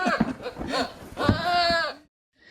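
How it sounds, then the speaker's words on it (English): A goat screams and bleats in several loud, wavering cries, the longest near the end, followed by a brief silence. "You know the screaming goats?"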